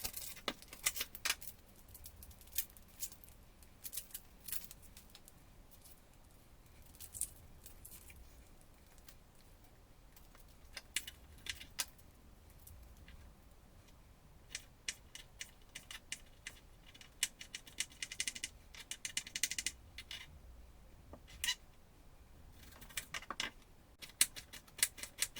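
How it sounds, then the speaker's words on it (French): A knife chops garlic and onion on a cutting board for a plant-based meal, sharp quiet taps in irregular bursts, close and fairly faint, with no talking. "Je vais d'abord couper l'ail et l'oignon."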